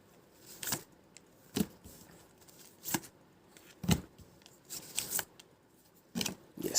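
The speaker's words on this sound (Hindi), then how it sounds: "So I am placing the cards." Tarot cards are laid down on a table one at a time, sharp papery slaps and brief shuffling sounds separated by quiet pauses, about eight distinct placements, close and otherwise silent.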